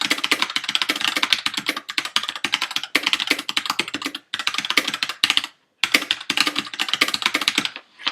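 Rapid, steady typing on a Rantopad MXX mechanical keyboard with red switches, dense clacking keystrokes close up, with a couple of short pauses between bursts.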